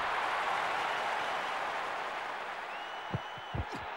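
A stadium crowd in the football video game ISS 98, Germany against Scotland, gives a broad, steady roar that fades a little toward the end, where a few dull thuds sound near the close.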